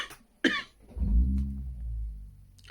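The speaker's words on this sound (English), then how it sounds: "not unusual to have a coughing fit" A single person coughs once, sharp and close, then a deeper, rougher cough or throat rumble follows and fades out, with a quiet room around it.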